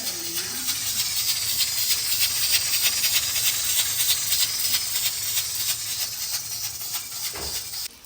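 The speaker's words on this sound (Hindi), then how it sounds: "आपको आवाज़ आ रही होगी कुकर की सीटी भी" Loud, steady hissing of steam escaping from a pressure cooker whistle, continuing for several seconds before cutting off abruptly.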